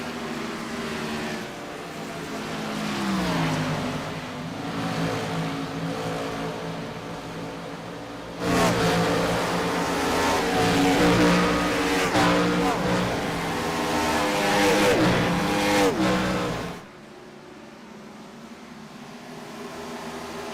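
IROC race cars roar around Atlanta's oval in a continuous engine drone that swells sharply louder as the pack passes close, then drops back to a more distant hum.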